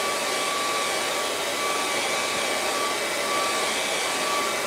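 A hair dryer blows steadily and loudly throughout, drying a painting of a kangaroo at sunset, a constant broadband whoosh with a faint motor whine and no talk.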